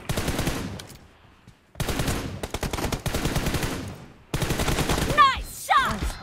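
Loud automatic-weapon bursts in an online team deathmatch shooter game, several sustained rapid-fire volleys broken by short pauses, followed by clinking, whistling effects near the end.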